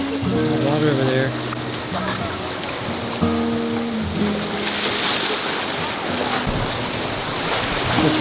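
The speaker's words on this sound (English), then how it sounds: "This water straight up just splashing the shoes" Ocean waves rush and splash steadily on a Hawaii shore, wetting feet and sandals, with gusty wind buffeting close by; a faint voice murmurs in the background.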